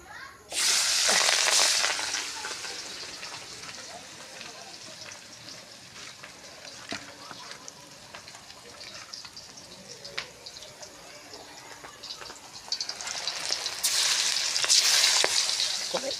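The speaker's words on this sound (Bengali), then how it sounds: "বেশি করে ভাজবো না অল্প করে ভাজি" Pieces of food frying in oil in a pan, a steady bright sizzle that swells loudly at the start and again near the end, with softer crackling and occasional clinks between.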